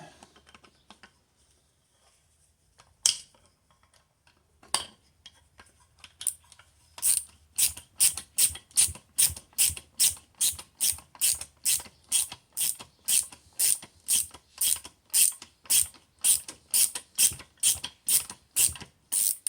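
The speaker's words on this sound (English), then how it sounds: "Let's tighten these bolts up here. Get my ratchet." A ratchet clicks in a steady, rapid rhythm, close and loud, while tightening the mounting bolts on a Chevy/GMC 22SI alternator, after a few isolated clicks and handling noises.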